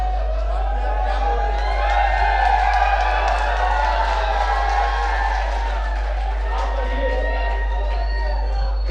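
An audience at a ghazal and shayari recital cheers and claps: a dense, sustained crowd roar with shouts and whoops over scattered applause, loud and continuous for several seconds.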